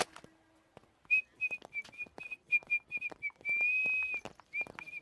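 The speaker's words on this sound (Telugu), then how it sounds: "ఏంటయ్యా నువ్వు ఎగ్జామ్ అనే టెన్షన్ లేకుండా విజిల్ వేసుకుంటూ వెళ్తున్నావు?" A man whistles a cheerful tune while walking in a Telugu film scene. Short, bright notes bounce along with one long held note, close and clear, with soft clicking steps beneath and no talk.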